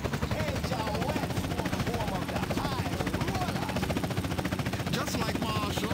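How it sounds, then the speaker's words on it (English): Helicopter in the video game GTA San Andreas: a loud, continuous rotor chop with a fast, even pulse and engine whine, steady throughout. "let's get this helicopter out of here"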